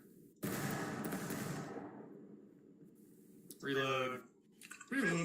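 Rifle volley fired at targets during a drill, a single sharp crackling burst of near-simultaneous shots outdoors, followed by a short rumbling decay, with a voice calling out commands afterward.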